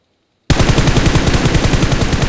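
Rapid automatic gunfire in the battle royale game PUBG on the Livik map, a loud close burst of evenly spaced shots starting abruptly after a brief silence and continuing without pause.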